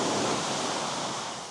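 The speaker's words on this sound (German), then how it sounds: "es ist gerade sehr windig und laut" Strong wind roars and rushes against the microphone on the open deck of the AIDAmar cruise ship, with surging sea noise beneath, loud and continuous throughout.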